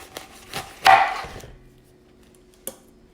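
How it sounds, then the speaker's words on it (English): A knife chops off the end of a microwaved corn cob still in its husk: a few soft taps, then one crunchy cut with a short crackle, followed by a single sharp knock after a pause, close and fairly loud. "Just chop off the front of it."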